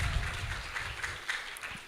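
Audience applause for conference speakers at an international conference on democracy and national resilience, a steady, fairly soft wash of clapping that holds for about two seconds.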